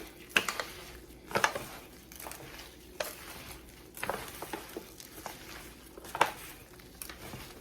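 Ground meat is squished and worked by hand into patties, a close, soft wet patter of irregular squelches and kneading pats with a few sharper slaps.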